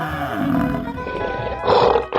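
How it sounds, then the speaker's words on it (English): A tiger in a 3D animal video game lets out a growling, whinny-like roar that rises and falls over about two seconds, loud and close, with a sharper burst near the end. "Tiger."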